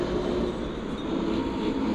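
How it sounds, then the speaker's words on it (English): A mountain train rolls into Lauterbrunnen in the Swiss Alps, a steady, broad rumble of wheels and carriages heard from nearby without pause, with no voices over it. "this is the train coming from up the mountain into this town"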